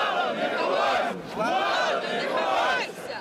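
Protesting students chant slogans in unison at a picket outside a regional state administration building, a loud crowd voice rising and falling in repeated rhythmic shouts with brief pauses between phrases.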